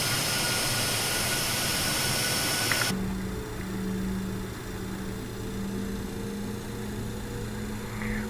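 A BAe 146 jet in a flight simulator taxis away on the ground, its engines giving a steady, loud whine and hum that rises after a sharp change, with a sustained low tone continuing throughout and no talking.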